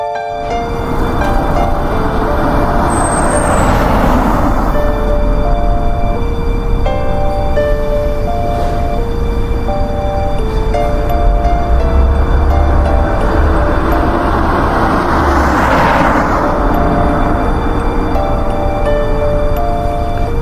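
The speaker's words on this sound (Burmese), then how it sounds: "ပြီးတော့ဒရိုရဲ့ကားကြီးဆက်ထွက်ပါတော့တယ်" A vehicle engine hums steadily beneath a busy electronic music track, with tonal game sounds layered over a constant rumble throughout.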